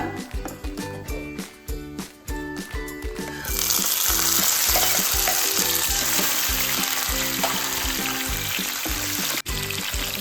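Cashews fried in oil for chicken biryani, with raisins then added to the pan: rhythmic scraping of a spoon stirring in the oil, then a sudden loud, steady sizzle that carries on close by.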